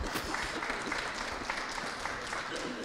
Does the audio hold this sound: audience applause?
yes